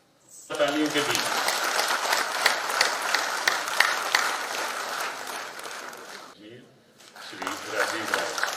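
A ceremony audience claps steadily for several seconds, a dense close applause that briefly dips and then rises again, marking the closing event of a national road safety month.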